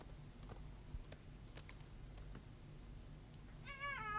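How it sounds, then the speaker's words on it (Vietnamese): A cat meows once near the end, clear over a quiet background with a few faint ticks and taps. "Nó là con mèo mà."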